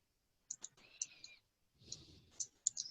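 Light mouse clicks, several sharp ticks coming singly and in quick pairs, mixed with soft faint handling noise in a quiet room.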